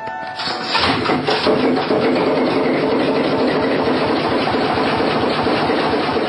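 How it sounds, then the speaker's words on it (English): A ship's massive engine starting up aboard a vessel at sea, rising within the first second into a loud, steady mechanical rumble with a rattling, clattering texture that carries on unbroken to the end. "get the engine started"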